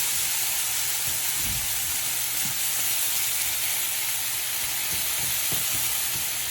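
Chilies and rice fry for Indonesian nasi goreng, sending up a steady, loud sizzle with occasional soft knocks of stirring, and no voices.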